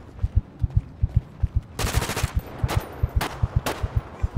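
Modded GTA 5 gunfire: rapid rhythmic bursts of automatic shots with sharp cracks, several heavier blasts mixed in, loud and close, with no talking.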